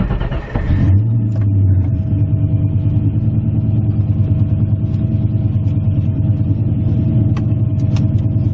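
A 1998 TVR Chimaera with a 4.0-litre V8 rumbles loudly and steadily up close, a deep continuous engine drone heard from on board after a brief rise at the start.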